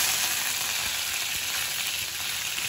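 Cumin and garlic sizzle in hot oil in a home kitchen, a continuous close hissing crackle with no voices or stirring.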